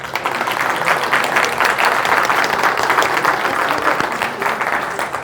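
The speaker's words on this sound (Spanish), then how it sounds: "pido un fuerte aplauso" Strong applause from a presentation audience welcoming a company, a dense sustained roar of many clapping hands that stays even and loud throughout.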